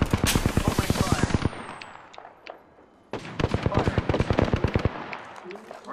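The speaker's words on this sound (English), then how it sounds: "Opening fire" Rapid gunfire from an Apex Legends match: two bursts of evenly spaced shots, the first about a second and a half long, then a short pause and a second longer burst, close and loud with game voice lines between.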